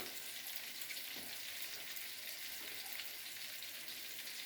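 Pangas fish frying in hot oil gives a steady, dense sizzle with crackling spits, continuous and fairly close, with no talking over it.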